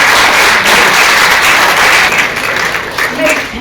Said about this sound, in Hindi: इसका तालियां बजा करके स्वागत करना चाहिए